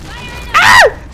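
An explosion in the battle royale game PUBG rings out as a single loud, bright burst with a falling whine, rising abruptly over faint background and dying away after about a third of a second.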